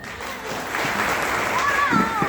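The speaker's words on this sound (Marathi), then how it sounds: "म्हणजे त्याच्यावरती तुम्ही टाळ्या वाजवायला पाहिजे" People clap together in a room while a Marathi speaker's voice carries on over the steady applause.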